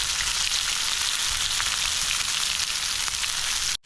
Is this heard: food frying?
yes